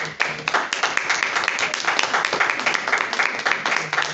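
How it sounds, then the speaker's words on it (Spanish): A church congregation claps together in a dense, continuous burst of applause, lively and close, with some voices mixed in. "Dele fuerte el aplauso al Señor."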